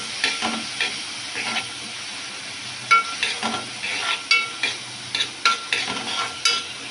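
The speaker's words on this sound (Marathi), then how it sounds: "आणि आता टाकत आहे त्यामध्ये वाटलेला जाडसर जो हिरवी मिरची, लसूण आणि कोथिंबीरचा मसाला। मस्त भाजायला द्यायचं।" A coarse paste of green chili, garlic and coriander fries in hot oil with steady sizzling, broken by repeated sharp stirring scrapes and clatters from a utensil against the pan, close and alone.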